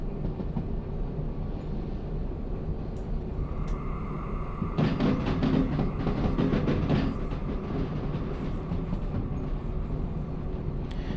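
A freight train in the Derail Valley game rolls downhill along rails through slow corners near a junction, a steady low rumble with a louder burst of clattering wheel noise midway.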